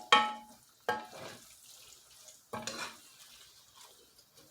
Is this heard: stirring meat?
yes